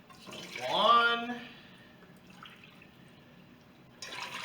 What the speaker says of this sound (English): add 2 cups of water to the cooker